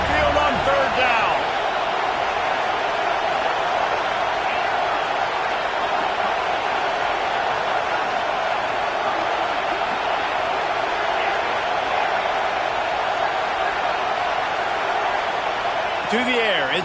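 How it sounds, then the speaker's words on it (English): Alabama Crimson Tide crowd at the stadium on Saban Field in NCAA 26 football video game, a dense, loud, sustained roar of noise held steady throughout on third down, with commentary voices over it. "The Tide crowd roaring noise down on the Saban field on 3rd down."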